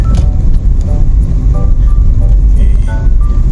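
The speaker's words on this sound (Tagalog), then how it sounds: "Traffic, no?" Road traffic heard from inside a car during a morning commute in the US, with a steady, loud low rumble of driving and passing vehicles throughout and a few faint tonal beeps or chimes on top.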